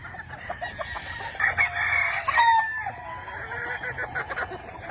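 Gamefowl hens on a farm in the Philippines cluck steadily, and a rooster crows nearby in the middle, with other fowl calling in the background.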